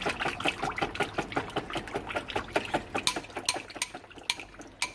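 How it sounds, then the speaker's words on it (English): A whisk beats a goat milk soap mixture in a bowl, a quick, regular series of clinking, tapping strokes against the sides, fairly close and moderately quiet. "I'll go ahead and I'll whisk it while you do that."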